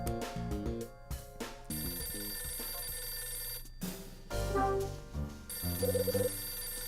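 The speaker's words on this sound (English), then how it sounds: "My phone's ringing." Phone ringing in the Last Window video game, ring tones sounding in bursts over a layer of game music, moderately loud and intermittent across the stretch.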